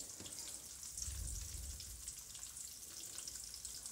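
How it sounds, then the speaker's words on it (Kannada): Onions fry in oil in a pan for sambar rice, a soft, steady sizzle with faint crackling throughout and no voices. "ಈ ಈರುಳ್ಳಿ ಎಲ್ಲ ಸ್ವಲ್ಪ ಚೆನ್ನಾಗಿ ಬಾಡಿಸಿ ಎಣ್ಣೆಯಲ್ಲಿ"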